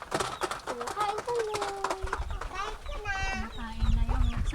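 Farm chickens in Bulacan cluck while pecking feed from a person's hand, a busy mix of short clucks and squawks, close by, with a voice talking over them.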